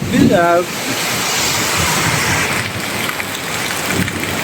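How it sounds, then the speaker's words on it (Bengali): Heavy night rain drums steadily on a tin roof in a thunderstorm, making a dense, unbroken roar that stays loud throughout. A brief voice-like tone sounds at the very start. "প্রত্যেকটা টিনের ঘরে যে ঝুমঝুম শব্দ হয় বৃষ্টি"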